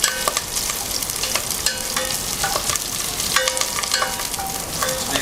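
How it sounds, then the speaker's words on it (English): Whole basil leaves pop and sizzle in hot oil in a pan, a steady close frying hiss broken by frequent sharp crackles and spits throughout. "that's what you want to hear right there. That popping."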